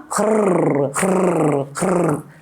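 A voice imitates a dog's growl with three rough, rolling rumbles in a row, each about a second long, loud and close.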